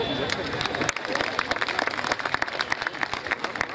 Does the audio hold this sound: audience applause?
yes